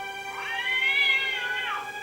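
A kitten gives one long, clear meow lasting most of a second or more, close and fairly loud, with no talking over it.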